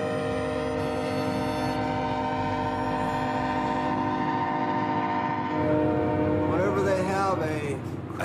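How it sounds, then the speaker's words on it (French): A sustained train horn blares loudly for several seconds at a level crossing along Route 66 in the American West, then fades as rumbling rail noise continues and a voice speaks briefly at the end. "le calme n'est troublé que par les 150 trains qui passent quotidiennement"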